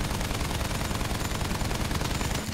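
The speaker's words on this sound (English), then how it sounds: "Guys on the machine gun in the back, we got this." Sustained rapid machine gun fire in the Battlefield 1 video game, a dense, continuous burst of loud automatic shots running steadily without a break.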